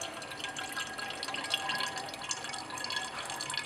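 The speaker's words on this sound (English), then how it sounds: "Add this to the separating funnel in order to neutralize any remaining acid." Sodium hydrogen carbonate solution is poured into a separating funnel, giving a steady, faint splashing trickle of liquid throughout with no talk.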